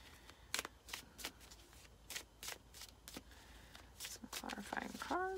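Tarot cards are shuffled close by in a quiet room, with a series of soft riffling and flicking bursts at irregular intervals, faint and papery, ending with a few sharper card snaps.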